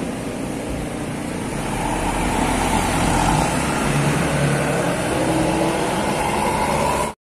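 Another Surya Putra tour bus goes by on a Ciamis road, a close, loud engine roar and tyre noise that holds steady for several seconds before cutting off abruptly.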